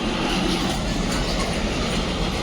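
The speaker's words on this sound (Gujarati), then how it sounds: "ટ્રેન આવી હે ને ટ્રેન જોઈએ" A train rumbles past close by, loud and continuous, with a dense rolling roar of wheels on rails throughout and no talk.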